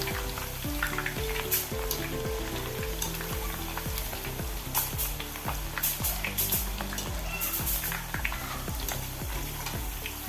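Banana chips fry in hot oil with a steady, dense sizzle that holds for the whole stretch, broken only by faint scattered clicks and taps from the pan.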